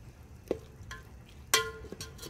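A spoon stirs mutton keema in a pan, giving a few distinct scraping, clinking strokes, one near the start and a louder one about midway, over a faint background sizzle.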